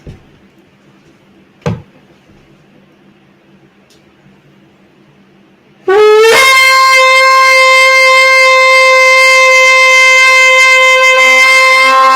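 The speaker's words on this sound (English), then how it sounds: "A single tekiah is sounded on the shofar at the closing of the gates." A single tekiah blast on a shofar at the closing Ne'ilah service of Yom Kippur: after several seconds of near silence and a brief knock, one loud, sustained, steady horn tone sounds and holds to the end.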